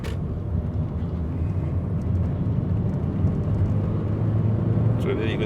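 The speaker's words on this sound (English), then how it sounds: "So we'll see the peaks disappearing as we try a second gear pull again." A 2008 Skoda Octavia II 1.9 TDi diesel with a turbo overboost fault pulling hard in second gear, a steady low engine drone and road rumble heard from inside the car, with a voice talking over it.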